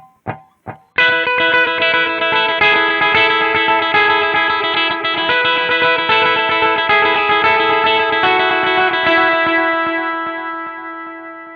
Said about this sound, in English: Here is the echo.